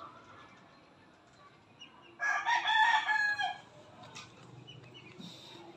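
A Rhode Island rooster crows once, loud and fairly close, in a quiet farmyard, followed by faint clucking from the chickens.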